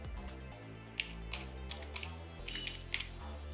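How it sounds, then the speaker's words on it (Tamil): Typing on a computer keyboard during a Photoshop tutorial, a run of soft, close key clicks in a quick, uneven rhythm over a low humming background. "இப்போ நான் எக்ஸாம்பிளுக்கு நான் வந்துட்டு அனைவரையும் அழைக்கிறோம் அப்படின்ற ஒரு டெக்ஸ்ட்டை டைப் பண்ணிக்கிறேன்"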